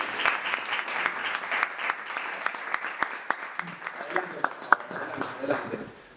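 Small audience at a podcast recording clapping to welcome two guests, scattered individual claps with sharp distinct hits, tapering off toward the end as voices murmur.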